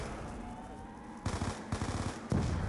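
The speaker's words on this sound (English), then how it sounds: "Well, I guess I can use the MP5." An MP5 submachine gun fires in Black Ops 2 Zombies, in two quick rattling bursts of rapid shots over a steady low game hum.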